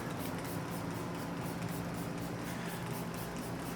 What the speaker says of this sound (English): So I'll spray the hood down.